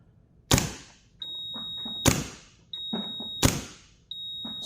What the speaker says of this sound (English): I couldn't figure out how to turn the beeping off of my old Chrono.